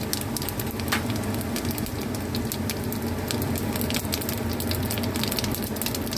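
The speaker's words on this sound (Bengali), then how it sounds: "আমি এবার সর্ষের তেল দিলাম, জিরে ফোড়ন দেবো, জিরে ফোড়ন দিলাম" Cumin seeds crackle and sizzle in hot mustard oil in a heated pan, a dense, continuous close frying hiss with scattered sharp pops throughout and no talk.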